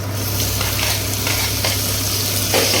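Tomatoes and onions fry in a pan for tomato rice, a steady close sizzle with soft stirring scrapes running throughout, no talking.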